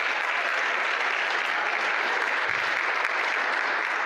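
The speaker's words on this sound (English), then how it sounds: "let's give a round of applause." Audience applause fills the room in a round of clapping for a performer, steady and dense throughout without a break, loud and close with no voices standing out.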